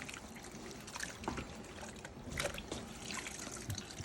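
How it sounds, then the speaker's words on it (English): Rinse water drains and trickles steadily from a bowl of raw chicken being cleaned, a continuous splashing flow with scattered drips and clatter, close and fairly loud. "We're gonna drain the water."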